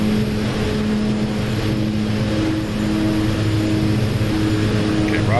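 An OV-10 Bronco twin-turboprop in the DCS World flight game drones steadily through a low-altitude flyby, loud and continuous propeller and engine hum with a steady tonal whine, voices talking over it.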